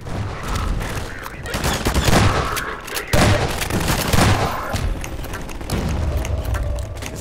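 A tank fires in the Half-Life 2 video game, with dense, loud gunfire and booming explosions going on nonstop over several seconds. Voices can be heard faintly beneath the battle.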